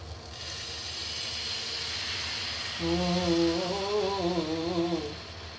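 Patishapta batter hisses and sizzles steadily after being poured into a hot wok, a close, continuous frying hiss that runs throughout while a voice hums or talks over the second half.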